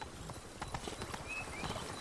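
In The Witcher 3 video game, the horse Roach's hooves clip-clop in a steady walking rhythm, close and continuous over an ambient game backdrop.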